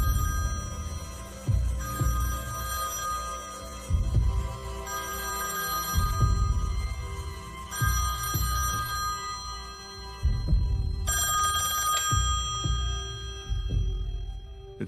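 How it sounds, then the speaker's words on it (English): A telephone rings in the early morning, its bell-like trills repeating in regular bursts every couple of seconds, loud and close with no talking. "and the phone rings"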